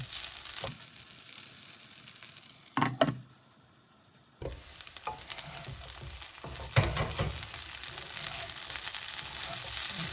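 Leftover rice frying in a pan with lemon juice for Indian vagharelo bhaat, a steady close sizzle with a brief quiet pause midway, then crackling resumes alongside a few soft stirring clicks.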